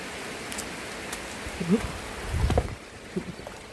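Steady rain falls across the whole stretch as an even, close hiss with no voices, broken only by a few faint low knocks.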